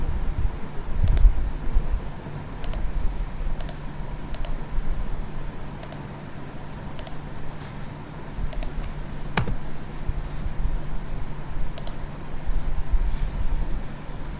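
Sharp, isolated clicks sound at irregular intervals, about a dozen over the stretch, over a low steady background hum, close and fairly quiet with no talking.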